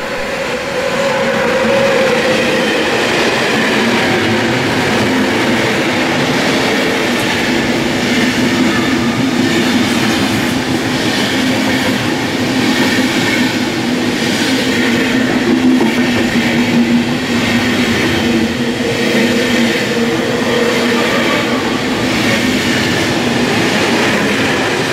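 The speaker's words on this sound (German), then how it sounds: "deshalb sehen wir jetzt auch den Zug aus der Eingangsszene mit den 5 Schlafwagen in die Schweiz" A night train of five sleeping cars bound for Switzerland passes through a station with a steady, loud rolling rumble and faint wheel clatter that holds throughout, with no voices.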